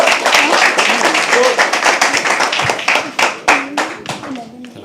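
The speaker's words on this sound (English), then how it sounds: "Keep clapping to the conversation." Crowd at a poetry open mic claps steadily, with sharp individual hand claps standing out close by. The applause thins toward the end, and voices murmur and talk over it.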